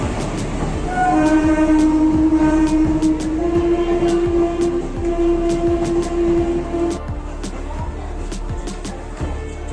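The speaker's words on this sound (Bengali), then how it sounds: "ট্রেনের জন্য স্টেশনে বেশ কিছুক্ষণ প্রতীক্ষা করার পরেই দেখলাম চলে আসলো তার নির্ধারিত সময় থেকে তিরিশ মিনিট আগে উত্তরবঙ্গ এক্সপ্রেস" The Uttar Banga Express (Bamanhat–Sealdah) pulls into New Jalpaiguri station, its long horn blaring over the rumble and clatter of rolling coaches, with platform ambience and distant chatter around it.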